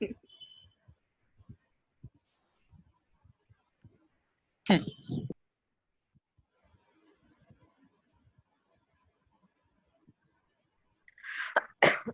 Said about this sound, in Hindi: इसी में खांस लो, माइक खोल के खांस लो, सर के कान फोड़ दो।